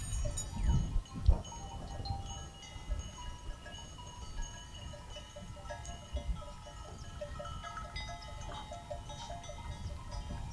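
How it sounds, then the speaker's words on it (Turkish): A flock of sheep returning at evening, with scattered bleats and a cowbell clinking over a low, steady outdoor rumble, the animals at moderate distance. "Akşam oldu işte, koyunlar dönüyor."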